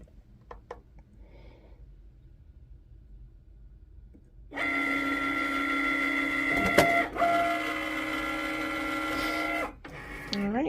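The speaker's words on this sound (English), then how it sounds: "let's have Cricut cut it for us" A Cricut cutting machine works through an acrylic badge reel blank, giving a steady motorized hum with tonal whirring and brief carriage shifts, close and continuous for several seconds after quiet handling noises.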